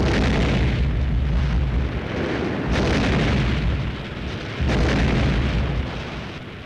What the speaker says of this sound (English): One of our ammunition dumps goes up.